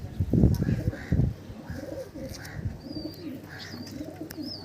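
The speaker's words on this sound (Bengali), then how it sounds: "এটা সিঙ্গেল নর পায়রা" A single male pigeon in a loft coos in soft repeated low phrases, with someone speaking briefly over the start and faint chirps in the background.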